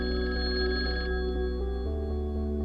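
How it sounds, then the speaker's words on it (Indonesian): A mobile phone ringtone plays as a steady electronic tone, holding its pitch and then shifting partway through, loud and alone over a constant background hum. "ponselku berdering"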